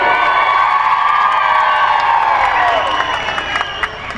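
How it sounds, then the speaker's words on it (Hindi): A large crowd at a political rally applauds and cheers loudly and continuously, with shouts rising over the clapping. "राजू बिष्ट के लिए जोर से ताली बजाएं।"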